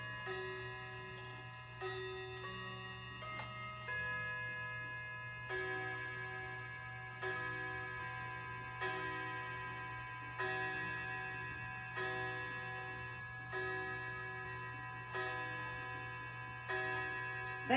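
Steady clock ticking runs throughout, with bright chime-like tones recurring roughly every two seconds over a constant low hum in a children's program setting; no talking.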